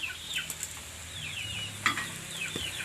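Bitter gourd (paliya) stir-frying in a pan, a steady soft sizzle broken by quick scraping strokes of a spatula at irregular intervals, close by and fairly quiet.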